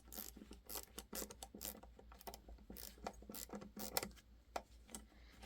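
A ratcheting adapter from Vise clicks rapidly and repeatedly as it screws into a pre-made hole, close and fairly quiet, with uneven bursts of ratchet ticks and no talking.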